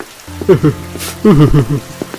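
Rain falls in a Hindi cartoon animation, a steady soft hiss of downpour beneath louder voiced tones and short bursts of sound.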